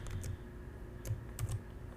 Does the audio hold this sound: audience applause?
no